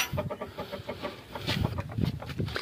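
A rooster clucks in a village coop in Punjab, Pakistan, giving quick, busy, repeated clucks close by with a steady, rough rhythm.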